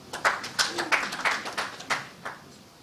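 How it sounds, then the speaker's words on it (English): At a national dialogue conference on contingency planning and funding, a few people clap in a sparse, uneven burst of distinct hand claps, moderately near, that taper off within a few seconds. "Another round of applause."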